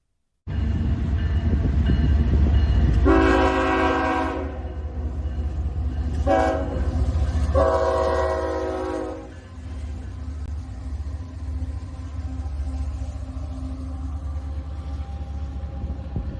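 Freight train R2-14 on the New River line passes at close range as a loud, steady rumble of rolling cars, with two long horn blasts standing out over the wheel noise.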